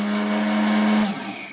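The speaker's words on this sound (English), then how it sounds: "this little motor here plugged into the relay plug for the coolant to verify that it comes on" A small motor plugged into the coolant relay plug of a spindle speed control box whirs steadily with a tonal hum, then winds down and fades toward the end.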